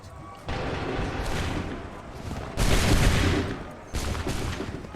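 Musket volleys ring out in an Assassin's Creed III battle, three loud, broad bursts of massed fire in a row, each rolling over a steady background of crackling shots and battlefield din.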